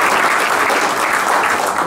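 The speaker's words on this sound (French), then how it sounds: "On peut vous applaudir, Ali, bravo." A restaurant audience at a Fourchette d'Or award evening breaks into loud, dense applause. The clapping is sustained and close, with no gaps.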